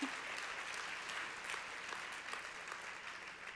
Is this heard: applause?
yes